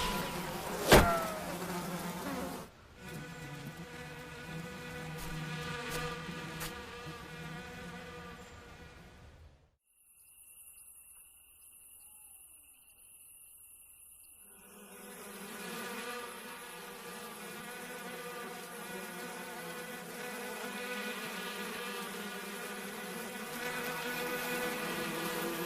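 Bees buzz in a steady, insect-like drone over a green meadow where golf is played, continuous and moderately close, with a near-silent gap partway through before the buzzing resumes alone.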